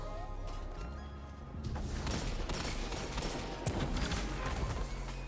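Gunfire in the video game Destiny during a Trials match, bursts of rapid shots and clattering mechanical impacts under continuous game noise, fairly dense and loud through most of the stretch.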